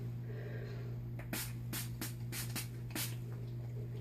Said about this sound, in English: we are going to spray the face and get this all set